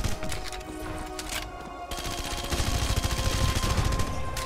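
Rapid shotgun and gunfire blasts in the video game Red Faction, loud, dense and continuous, building in intensity toward the end with constant crackling bursts.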